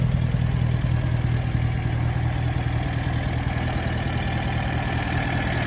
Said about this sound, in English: Here's the exhaust. Good exhaust, lots of pressure.